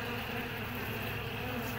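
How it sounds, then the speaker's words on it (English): Agitated honey bees buzz continuously around a sparsely populated hive, a dense, steady, close drone with no pauses. "there's not a whole lot of bees in this hive right here. They're a little bit"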